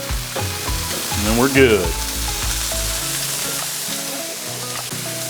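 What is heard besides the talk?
Swiss steak sizzling on a Blackstone griddle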